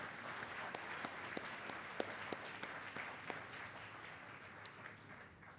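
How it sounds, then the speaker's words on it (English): Round of applause for Nobel laureates at a sustainable development summit session, a steady wash of clapping from a crowd with a few sharper individual claps standing out, fairly quiet and distant throughout. "I'd like to hear a big round of applause for our Nobel laureates"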